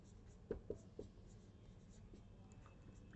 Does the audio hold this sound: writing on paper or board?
yes